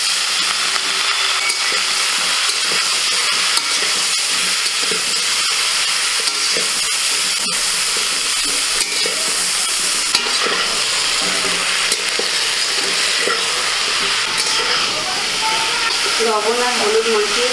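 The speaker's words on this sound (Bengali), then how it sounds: "এবার আমি তেল দিয়ে ভেজে নেব।" Salt- and turmeric-coated cauliflower fries in hot oil with a loud, steady, dense sizzle and hiss that runs without pause, with occasional stirring scrapes underneath.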